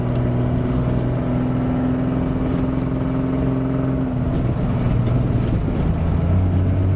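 Steady engine drone and road noise from a 1998 Jeep Grand Cherokee cruising at 60 mph under 2,000 RPM in overdrive, a continuous low hum with a slight shift in tone partway through, no talk.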